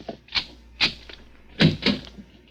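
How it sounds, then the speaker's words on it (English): A door opening in an old radio drama, heard as a handful of separate knocking, clattering handling sounds spread over a couple of seconds, moderately close with no talk over them. "Open the other door, Joe."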